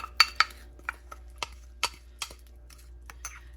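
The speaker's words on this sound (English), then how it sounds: "Mix all this up, mixing my spices up." Spices including cayenne pepper being stirred together in a dish, a handful of sharp, light clicks and taps of a utensil against the container, spaced irregularly in a quiet room.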